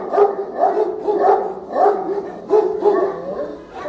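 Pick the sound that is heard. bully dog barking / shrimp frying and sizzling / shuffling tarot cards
bully dog barking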